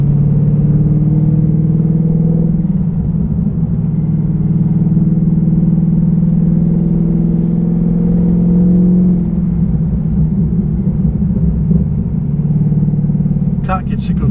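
A cammed 2013 Holden VF SSV Commodore V8 idles and revs with a deep, lumpy burble, its pitch rising and falling in steps, with people talking over it.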